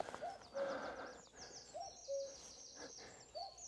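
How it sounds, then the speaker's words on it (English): A cuckoo calls in the West Norfolk countryside around sunrise, its two-note call repeated three times at a distance, faint and clear, with thin higher bird sounds behind it. "yeah, cuckoo."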